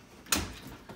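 A GE Profile oven door that won't close properly shuts with a single sharp clunk, close by, followed by a faint rattle and a softer knock a moment later.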